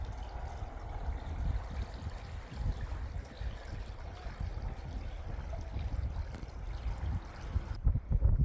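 Steady broadband rushing of the Klamath River flowing beneath Walker Creek Bridge, a continuous close wash of moving water with no voices.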